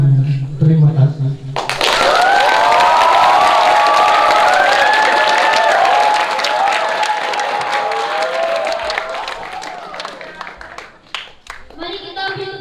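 Audience applause and cheering fill a hall at a Bulan Bahasa finalist competition after a performance, loud and sustained for about eight seconds with shouts rising above the clapping, then fading as a voice returns.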